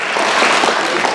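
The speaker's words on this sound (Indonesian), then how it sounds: "Kasih tepuk tangan buat Pak Haji Yasin." Audience applause at an SD Islam Al-Azhar 45 Palembang tahfiz graduation ceremony, a brief dense burst of clapping from a seated crowd, steady and fairly close throughout.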